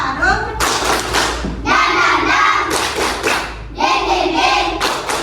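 Children in an Indonesian classroom clap hands together in a rhythmic chant pattern, bursts of loud close claps with short pauses between, mixed with the kids' chanting voices.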